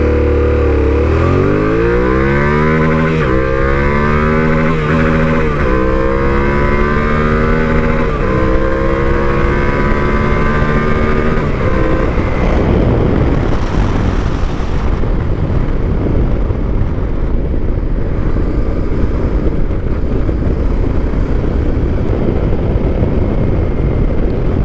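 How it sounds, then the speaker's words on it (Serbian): A 2023 Yamaha Tenere 700 motorcycle accelerates hard through several rising gear pulls with the front wheel lifting, a loud close engine roar that later gives way to steady wind and road rush. "Uzmite u obzir da sam malo zadržao kvačilo zato što motor hoće da penje na točak."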